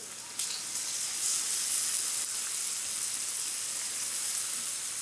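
Soy sauce hits a pan of translucent frying onions and bursts into a loud, bright sizzle that stays steady and hissing for several seconds, with no voices.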